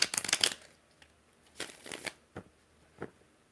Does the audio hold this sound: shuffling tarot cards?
yes